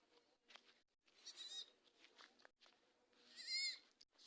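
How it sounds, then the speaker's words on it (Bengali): A goat bleats several times at a farm pond enclosure, quavering calls rising and falling at moderate distance, with quiet gaps between them. "একটা ছাগল কিউট ব্যা ব্যা করতেছি কেন তাই বুঝতে পারতেছি না"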